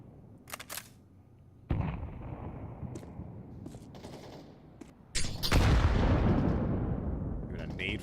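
A grenade detonates during a Counter-Strike match, a loud close blast with a long rumbling tail following scattered gunshots and footsteps, with a commentator talking over it.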